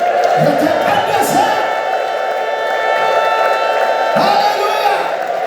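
A congregation at a monthly prayer conference ululates and cheers in a sustained, loud, high trilling chorus. Swells of voices rise near the start and again toward the end.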